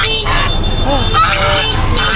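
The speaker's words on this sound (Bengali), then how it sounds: "এই যে হাঁস নিয়ে বসছে রাজহাঁস আছে হাঁস আছে" Geese honk a few times amid a busy rural village market on a rainy day, with background chatter and steady crowd noise throughout.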